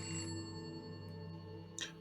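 A telephone ringing as a sound effect: a sustained electronic ring with steady tones, heard quietly and alone, with a brief brighter burst near the end.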